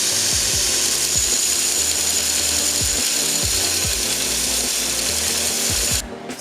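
A power grinder runs steadily as a hand-forged custom EDC knife blade has its bevel ground on a 60 grit belt, a continuous loud abrasive whir with repeated rhythmic passes, stopping abruptly near the end.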